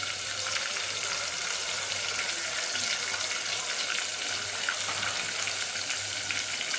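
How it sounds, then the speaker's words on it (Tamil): Basmati rice boiling in a pot with cardamom, clove and cinnamon, cooked for fried rice: a steady, close bubbling hiss with a constant low hum underneath, no voices. "ஃப்ரைட் ரைஸ்க்கு அரிசி வேகுது"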